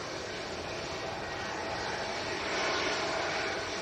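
A Boeing 757 airliner taxis at Manchester Airport, its jet engines giving a steady broadband roar from some distance that swells slightly near the end, with no voices.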